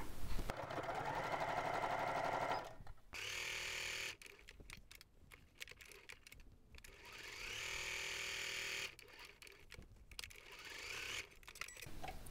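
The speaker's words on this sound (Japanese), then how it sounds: "接着綿を貼り付けた布を半分に折って 5ミリの縫い代で返し口を開けて縫います。" A sewing machine stitches fabric with fusible batting attached, close and fairly quiet, in several runs of rapid rhythmic whirring separated by short pauses.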